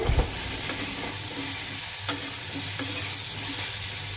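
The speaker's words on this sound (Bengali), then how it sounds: "নুন হলুদ দিয়ে আর ভাজা ভাজা করছি" Pieces of pumpkin with salt and turmeric sizzle and crackle in a hot uncovered pan, with scraping stirs and a few sharp clinks over the steady frying hiss.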